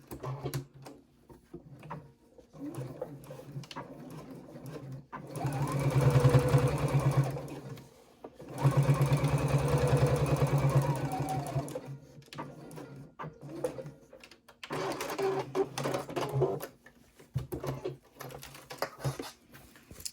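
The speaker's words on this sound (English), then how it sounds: "and then I'm going to top stitch that side of the zipper." A sewing machine top-stitches beside a zipper on a small triangle pouch: close, steady whirring runs in three longer bursts, separated by quieter clicks and fabric handling.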